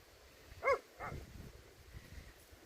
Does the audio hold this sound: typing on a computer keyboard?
no